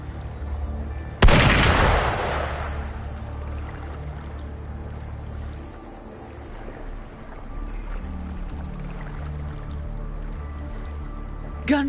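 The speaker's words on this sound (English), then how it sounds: "Gunfire! We've got intruders." A loud blast of video-game gunfire cracks out near the start, then fades into a low rumbling ambience with a faint sharp burst at the very end.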